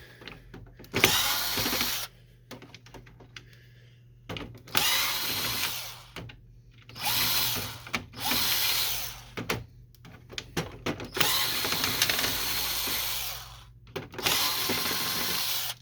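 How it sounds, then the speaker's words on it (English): Power screwdriver removing screws from the front plate of an HP Photosmart Premium C410a printer, with several separate bursts of whirring drilling, each lasting a second or two, broken by short pauses and small handling clicks. Close and fairly loud, with no talk. "And we're going to remove screws."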